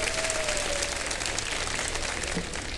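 A studio audience at a televised iftar show breaks into continuous applause, a dense wash of clapping at moderate level with no talk over it.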